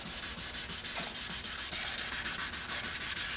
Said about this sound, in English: layers of sanding should go fairly quick here